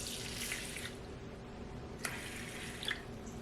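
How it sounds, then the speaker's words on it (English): Two-thirds of a cup of water is poured into the bowl of a Dash egg cooker, making a steady trickling splash close by, with a couple of brief drips near the end and no talking. "So I'm gonna add 2/3 cup of water to the bowl."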